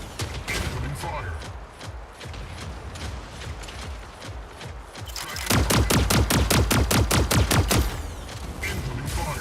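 Rapid mech gunfire bursts in the video game Mech Arena, scattered shots giving way to a loud, dense, evenly spaced volley of repeated blasts, with mechanical clanks and a voice speaking underneath.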